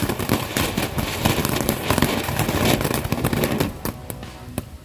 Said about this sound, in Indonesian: Mercon butterfly fountain. Air mancur warna biru.